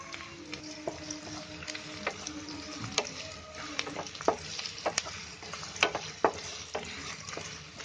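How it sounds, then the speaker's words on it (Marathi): Onion frying in oil in a home kitchen pan while making vegetable noodles, a steady close sizzle broken by irregular clicks and scrapes of a spoon stirring, no talking. "कांदा चांगला फ्राय करायचा त्याच्यामध्ये टाकून तेलामध्ये."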